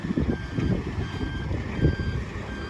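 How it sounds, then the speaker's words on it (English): A skip-collection truck in Salford sounds its reversing alarm, a steady repeating beep running throughout against rumbling engine and outdoor noise. "I say that's the truck that's taking it."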